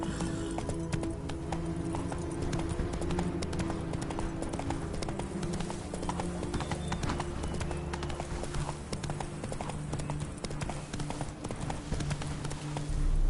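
Roach, Geralt's horse in The Witcher 3: Wild Hunt, gallops steadily with close, rhythmic clip-clop hoofbeats running unbroken throughout, over a low game ambience.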